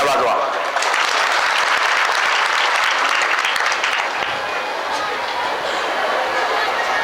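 Audience clapping at a village kirtan, a dense, loud, sustained round of applause from a large crowd filling the space, with faint chatter underneath.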